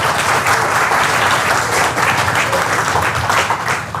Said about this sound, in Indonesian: Oh, tepuk tangan.